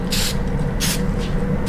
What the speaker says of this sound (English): So I'll put a little bit of spray.